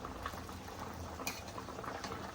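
A pot of Marathi fish curry (kalvan) made with yekru fish boils uncovered on the stove, giving a steady close bubbling and simmering hiss with faint clinks and no voices.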